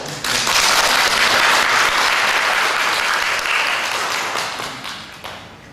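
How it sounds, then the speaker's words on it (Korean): A church congregation claps in encouragement for a deaconess who helped at a sports event, loud and dense at first, then gradually thinning and fading toward the end. "격려의 박수 부탁드리고"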